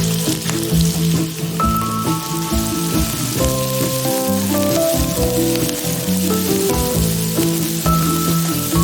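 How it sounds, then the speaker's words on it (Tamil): Onions, cinnamon, cloves, cardamom and a bay leaf sauté in hot oil for chicken salna, a steady sizzle and crackle running under loud, prominent music the whole time. "ஒரு பிரியாணி இலை, 2 சிறுதாய் நறுக்கிய வெங்காயம் சேர்த்து நல்லா வதக்கிக்கோங்க."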